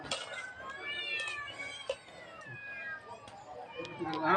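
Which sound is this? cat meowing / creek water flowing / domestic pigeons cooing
cat meowing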